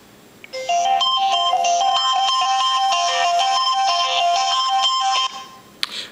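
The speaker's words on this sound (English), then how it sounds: "I will play a ringtone now just so you guys can hear how loud the phone is" A Samsung Galaxy S2 ringtone plays at full volume through the phone's speaker, a bright, loud melodic tone running steadily for about five seconds after a brief quiet start, then cutting off.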